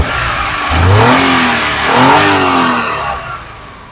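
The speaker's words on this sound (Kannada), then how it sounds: "engine sound ಸ್ಮೂತಾಗಿದೆ" A 2016 Hyundai Eon petrol car engine running nearby, rising and falling through two smooth revs before it settles back, loud and with no talking.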